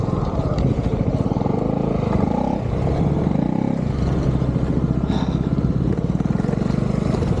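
A small motorbike engine hums steadily while riding, a constant pulsing drone that shifts slightly in pitch, close and fairly loud.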